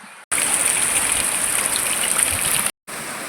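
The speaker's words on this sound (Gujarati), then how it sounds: "તો અત્યારે તો ફેમિલી બહુ વરસાદ ચાલે છે." Heavy rain pours down in a village courtyard, a dense, loud, continuous hiss of water drumming on surfaces, broken by two brief silent gaps.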